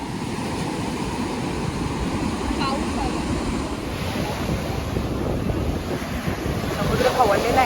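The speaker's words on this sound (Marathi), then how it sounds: "समुद्र खवळलेला आहे. भरपूर लाटा येतात डायरेक्ट." Rough sea surf rolls in at a Goa beach, a dense, continuous roar of breaking waves heavily buffeted by wind on the microphone, building slightly louder toward the end.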